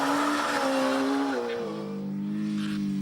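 A Suzuki motorcycle ridden hard around the Anglesey circuit, its engine screaming at high revs and dropping in pitch through gear changes, loud and close, with no talk.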